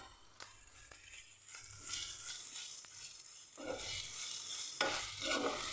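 Chopped onions with ginger-garlic paste fry in a pan for a soya curry, giving a steady close hiss broken by scraping stirs and brief clatter, louder bursts toward the end; no talk.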